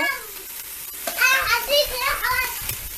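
Meat stirred and fried in a pan hisses and scrapes steadily at close range, with voices, including a child's, talking over the sizzle.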